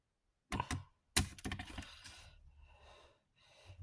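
Scissors cutting paper at an angle for an envelope album, a few crisp snips and rustling cuts close by, then softer paper handling, with no talk.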